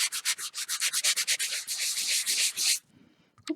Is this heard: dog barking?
no